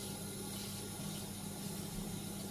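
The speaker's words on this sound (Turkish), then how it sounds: "Valla sıcak suyla yıkıyorum yeşillikleri falan." Hot tap water runs steadily into a kitchen sink while greens are washed under it, a close, continuous hiss and gush with no talk.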